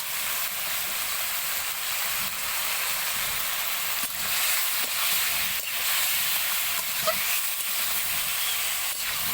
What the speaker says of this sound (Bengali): ভালো করে কষানো হচ্ছে মাংসগুলিকে